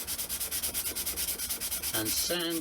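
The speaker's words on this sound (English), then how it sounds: "then go to normal corner and sand" Someone hand-sands a balsa wood guitar, producing a rapid, even back-and-forth scratching rhythm, close and loud, that changes to a rougher rub near the end.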